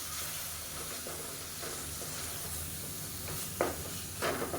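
Tomatoes sautéing in a pan with a tablespoon of water give a steady, soft steamy hiss and sizzle, with a few brief stirring scrapes near the end.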